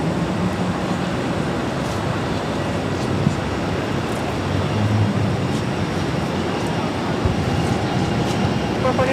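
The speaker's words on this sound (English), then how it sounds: "This is JetBlue Airways flight 204 coming in from Bermuda on an A220-300" A JetBlue Airbus A220-300 jet on arrival at Boston Logan from Bermuda, heard as a steady, loud broadband roar that holds evenly throughout with no pauses.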